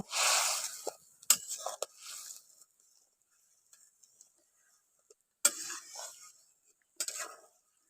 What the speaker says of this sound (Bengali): মাছগুলো দিয়ে ভালো করে একটু নাড়াচাড়া করে মিশিয়ে নিচ্ছি